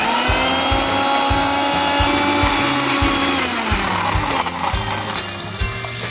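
An electric mixer grinder whirs steadily and loudly while blending a sauce in a home kitchen, its motor drone carrying a repeating rhythmic knocking from the jar, with no talk over it.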